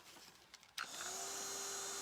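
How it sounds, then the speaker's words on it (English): Heat gun switching on partway through and blowing hot air in a steady, even whoosh with a faint whine, after a quiet start with a few small handling clicks. "it's definitely a heat gun"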